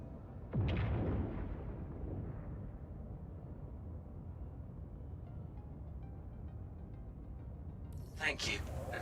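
Strafing gunfire in a video game: a heavy burst of booming shots sets off a long rumbling, roaring wash that fades slowly, then a brief crackle comes near the end.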